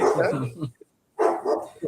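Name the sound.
big dog barking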